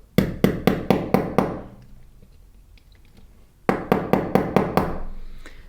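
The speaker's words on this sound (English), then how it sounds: "now I'm going to use the small hammer in order to push the pin" A small hammer taps a pin out of a metal watch band in two quick runs of about six sharp, metallic knocks each, separated by a quiet pause.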